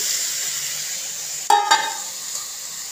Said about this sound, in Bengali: এবারে ভাজতে থাকবো।